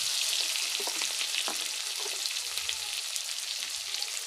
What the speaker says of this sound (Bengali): এখন নাড়িয়ে চাড়িয়ে